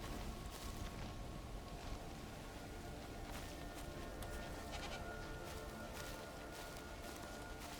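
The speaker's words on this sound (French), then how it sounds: "C'est encore une chèvre en fait." Goat bleats from the video game Cairn, a mountain setting, heard over a dense, steady bed of ambient game sound with no talking.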